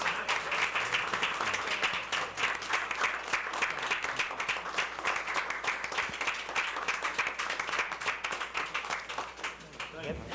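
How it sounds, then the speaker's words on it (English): Audience at an Alexandria, Louisiana city council meeting applauds warmly, a continuous patter of many hands clapping at a steady, even level before tapering slightly at the end. "May not be able to pay you, but we can applaud you"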